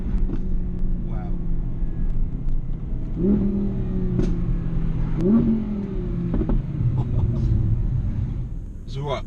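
Audi R8 V10 Plus engine revving hard with exhaust pops, sustained throaty drone rising in two sharp surges with crackles, loud and close throughout.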